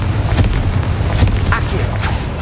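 Confringo blasting curse explosions in Hogwarts Legacy, deep booming blasts in the middle of a noisy spell duel, with rumbling low impacts and sharp cracks repeating every second or so.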